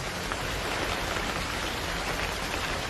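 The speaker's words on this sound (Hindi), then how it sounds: "कहीं भारी बारिश से नुकसान है" Heavy monsoon rain pours down in a steady, dense hiss that fills the air without a break, constant and fairly loud, with no voices.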